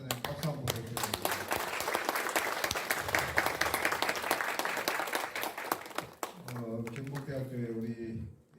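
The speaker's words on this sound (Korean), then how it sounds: "박수 한번 부탁드립니다." Lecture audience applauding together for several seconds, a dense steady wash of claps that fades, with a voice speaking before and after.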